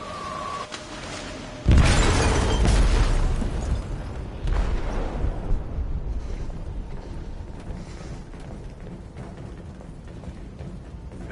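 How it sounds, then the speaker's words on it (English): A loud, close explosion detonates in a ship's hold in Detroit: Become Human. A sudden heavy boom is followed by a long, rumbling roar with crashing debris that slowly fades into a low, turbulent wash. "They detonated an explosive in the hold"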